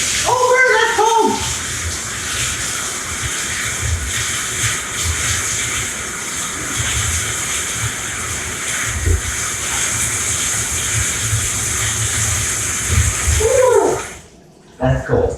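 Water from a tap or shower runs in a steady loud gush while a man wets his hair before a home haircut, continuing almost unbroken, then cutting off near the end. A voice speaks briefly at the start and close.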